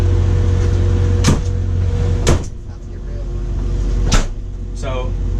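An ambulance cabinet door opened and shut several times, sharp close knocks and clunks over a running vehicle's low hum, with brief voices in between.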